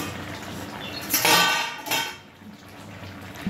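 A metal lid clatters onto a cooking pot of pumpkin, drumstick and tangra fish curry simmering on a gas stove, with two quick clanks close by and no talking.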